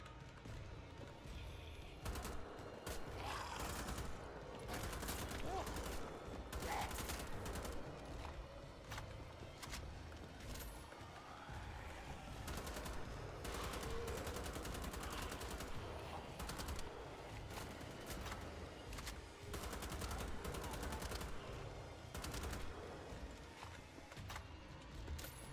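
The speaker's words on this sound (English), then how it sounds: "The shotgun is much more satisfying as a weapon to shoot against these guys with." Repeated shotgun blasts in the video game Wolfenstein: The Old Blood, heavy close booms spaced through a busy stretch of combat noise with clattering impacts.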